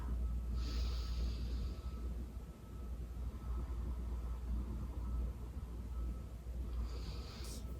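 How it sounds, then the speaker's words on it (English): A deep, slow breath drawn in through the nose and let out, close and breathy over a steady low background hum, with a brief gasp-like inhale at the start and again near the end. "take a deep breath"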